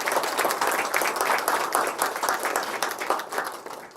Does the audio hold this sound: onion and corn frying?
no